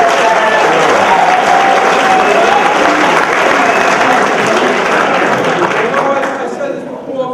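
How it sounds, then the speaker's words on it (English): A crowd at a spring sports awards night claps in a loud, sustained round of applause that fades slightly at the end, with no speech. "Can we have a round of applause?"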